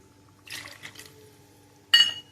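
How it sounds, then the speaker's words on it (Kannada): Mixer-rinse water poured into a pan of fried mushroom gravy in a home kitchen: a short splashing pour, a brief pause, then a sharper liquid splash and sizzle at the end. "ಮಿಕ್ಸಿ ತೊಳೆದದ್ದು ನೀರನ್ನು ಹಾಕುವ"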